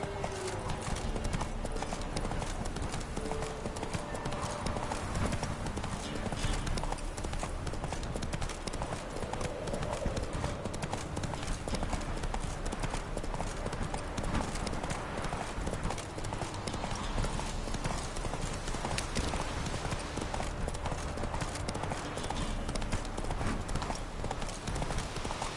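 Roach the horse gallops in a video game, hooves pounding in a fast, steady rhythm that runs the whole time, loud and close over a dense wash of game ambience.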